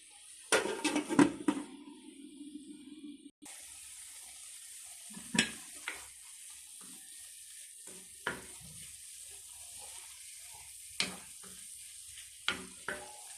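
Ground pork frying with potatoes and carrots in a pan, a soft steady sizzle with intermittent sharp clinks and scrapes of stirring utensils, preceded by a brief burst of louder clatter.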